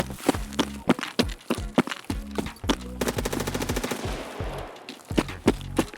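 Sharp gunshots in the game Escape From Tarkov pop in quick succession, with a burst of rapid automatic fire in the middle, fairly close and punchy, no talking.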